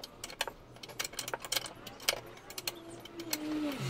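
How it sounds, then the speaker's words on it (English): Metallic clicks and rattles as a spare wheel cover bolt is twisted off a Toyota Prado with a 12 mm tool, quiet irregular ticks in quick succession, close up, with a faint low hum beneath. "So just twist it anti-clockwise like so."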